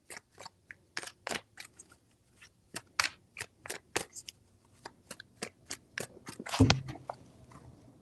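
Tarot cards shuffled by hand in a rapid series of crisp, close slaps and riffles, fairly quiet, ending in a slightly heavier thud.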